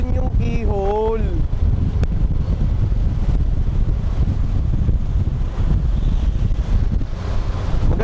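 Strong coastal wind buffets the microphone at the Keyhole rock formation on Boracay, a loud continuous roar with surf beneath it and a brief voice near the start.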